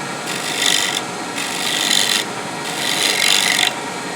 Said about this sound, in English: I'm just going to show you this scraping motion here.